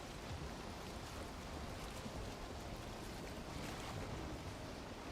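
A boat sails through rough ocean waves in the video game Valheim, a dense, continuous roar of water and wind rushing past with no breaks.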